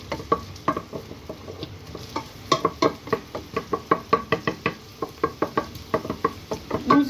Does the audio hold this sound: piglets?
no